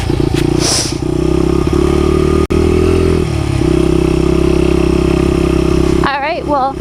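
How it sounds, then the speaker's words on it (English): A Honda 80 dirt bike rides around a property, its small engine droning steadily with a brief cutout and a shift in pitch as the gears change, loud and close, with a short burst of other noise at the end. "I hope you enjoyed my little ride on the 80, on the Honda 80"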